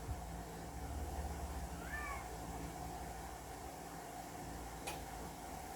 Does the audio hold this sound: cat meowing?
yes